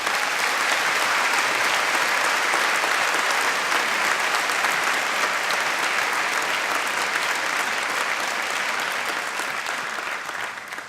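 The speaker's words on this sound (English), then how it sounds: "So I'd like you to give a round of applause to Katrina." A graduation conferring ceremony audience gives a long, even round of applause, dense and sustained for about eleven seconds before tapering off at the end.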